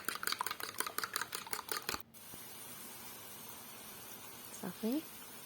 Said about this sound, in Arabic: غادي نطرب واحد 2 بيضات، غنزيد لهم شويه د الملحه وغادي نطربهم مزيان